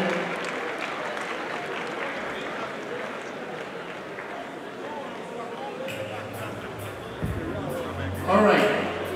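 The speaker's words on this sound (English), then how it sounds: "A round of applause, ladies and gentlemen." An audience at a festive church-style gathering breaks into a sustained round of applause, a broad wash of clapping that holds steady, then shifts near the end with a few louder bursts and a voice cutting through.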